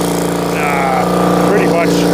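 An 18 horsepower Kohler engine on a homemade firewood splitter runs at a steady, loud, close hum. Someone talks over it the whole time.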